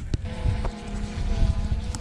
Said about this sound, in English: as you can see and hear, it's super windy out here.